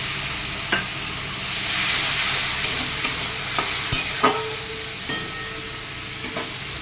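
Malabar spinach curry frying in a pan as a little water is added, giving a steady broadband sizzle with scattered pops and clinks of stirring, close and moderately loud, no talk.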